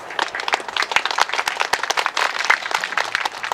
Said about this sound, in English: Please give a big applause for Mayor Patrick Brown, please.